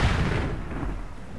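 An explosion in the video game Tomb Raider 3 gives a short, loud, deep boom that rumbles and fades away over about a second and a half.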